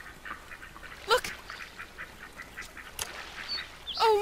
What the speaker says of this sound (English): Look, they're rare ducks.